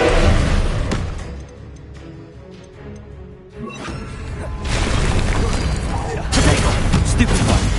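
Explosive Confringo spell blasts in the Hogwarts Legacy video game, loud crashing bursts that return in waves over a rumbling game soundtrack.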